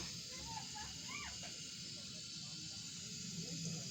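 Water sizzles and steams off a new clay griddle heating over a gas flame, a faint, steady hiss running throughout with soft voices nearby.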